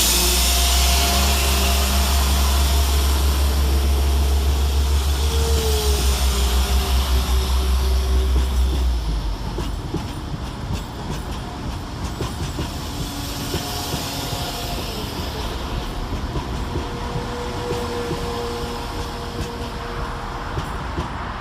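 A West Midlands Railway class 172 diesel unit at Birmingham Snow Hill station, with a loud, steady low rumble and hiss dominating at first, then easing to a quieter engine hum and rail noise that continues throughout.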